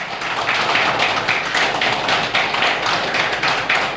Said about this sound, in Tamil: ஐயா அவர்களுக்கு ஒரு முறை எழுந்து நின்று மிகப்பெரிய ஒரு கரகோஷத்தை செலுத்துமாறு